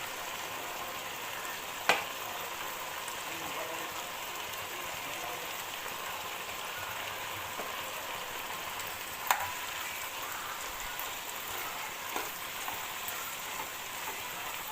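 Bamboo shoot palya sizzles and fries steadily in a pan after ground sesame goes in, a dense continuous crackle with a few sharp clinks of a utensil against the pan.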